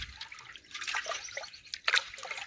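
Water poured off rice during washing gives a soft, close trickle and dribble with a few louder splashy bursts in between.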